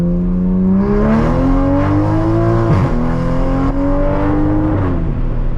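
A Toyota Supra engine revs hard under full acceleration, its loud steady drone climbing in pitch with a brief dip mid-pull, heard close from inside the car with no talking.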